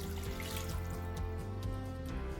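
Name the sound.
water poured from a clay cup into cooking pot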